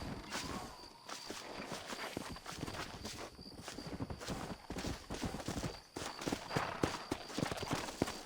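In Red Dead Redemption, horse hooves clip-clop at a quick, uneven pace over a busy outdoor game soundscape, close and moderately loud with scattered sharp knocks throughout.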